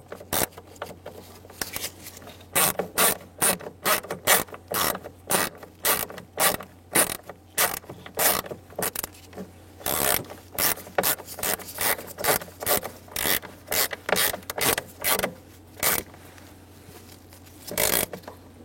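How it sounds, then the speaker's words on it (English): A ratchet wrench snugs down a bolt during car hood-release cable installation, a long run of rapid rasping clicks in steady bursts, loud and close, pausing briefly now and then. "Get the bolt started and snug it down."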